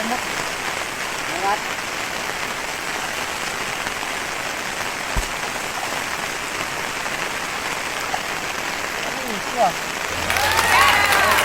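Rain falls outdoors during an eel-catching outing: a dense, steady hiss of drops on surfaces throughout, with a few faint scattered knocks and a brief rise near the end.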